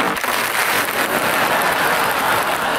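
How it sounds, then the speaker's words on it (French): A shower of ping-pong balls pours down as a TV show sound effect, making a dense, steady patter like heavy rain that stays loud and even throughout, with no voices. "Cette pluie de balles de ping-pong sonne la fin de la rubrique « Propose ton idée pourrie »"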